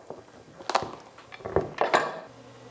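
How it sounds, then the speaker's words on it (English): A sharp knife point pierces and cuts into a hard raw pumpkin, giving a few separate knocking, scraping bursts close by with short pauses between them and no talk. "You just make a little hole in the pumpkin with the point of your knife to get it started."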